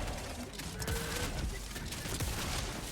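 Electric weapon fire in the video game Helldivers 2: a dense run of crackling, buzzing shots that continues steadily through the whole stretch, close and fairly loud, with no voices over it.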